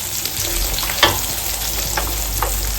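Garlic sautés in oil in a pan for a seafood fideuà, giving a steady, loud, close sizzle with a few light stirring clicks and no talk.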